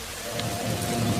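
Stormy rain in a horror story scene, a steady broadband wash of heavy downpour with a faint low rumble suggesting distant thunder, continuous and fairly loud with no voices.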